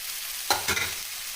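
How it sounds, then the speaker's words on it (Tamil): Broad beans (avarakkai) stirred into a pan with softened onion and tomato give two quick scraping stir strokes over a faint sizzle, brief and close, with no talk. "இப்போ நம்ம க்ளீன் பண்ணி வச்சு அவரைக்காய் போட்டு வதக்கிட்டு"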